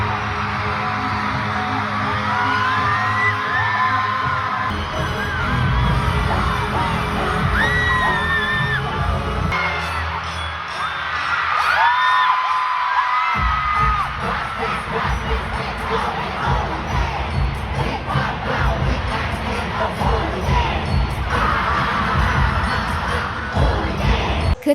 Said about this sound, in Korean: 전주가 흘러나오는 순간 8만 명분의 함성이 경기장을 통째로 덮었습니다